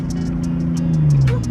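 A tuned Nissan 370Z pulls hard in third gear, its engine note a loud, steady drone that climbs in pitch toward the end, heard close from inside the car with no talk over it.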